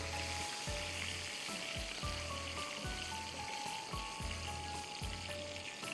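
Garlic sizzles in a pan while masala fish is cooked, a steady close crackle with a repeating low rhythmic thump underneath and no talk.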